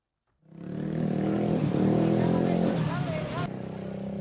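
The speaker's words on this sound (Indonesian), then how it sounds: "Kerap ugal-ugalan dengan knalpot bising" Motorcycles with loud, noisy exhausts revving on a city street during a police exhaust check, a rough engine roar starting abruptly and holding steady, with voices underneath.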